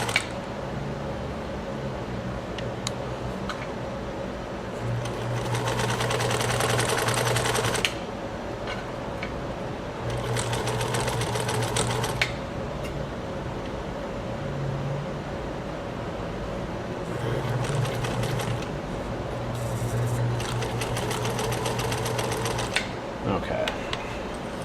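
A Necchi Supernova sewing machine runs in repeated bursts of fast, steady stitching, each lasting a few seconds, with quieter pauses and faint handling noises between runs during stitch testing.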